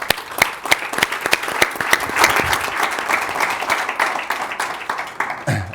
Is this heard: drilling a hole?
no